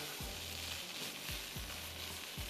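Rice with black beans stirred as it sizzles in a hot pan, a constant close frying hiss broken by regular scraping strokes of the spoon, roughly one every second.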